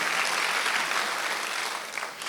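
A church congregation at a Korean Sunday worship service breaks into brief, loud applause, a dense burst of clapping that fills the room and starts to taper off toward the end.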